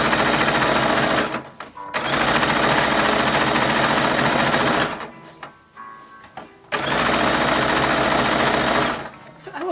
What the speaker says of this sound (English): So we are doing this on the modern machine.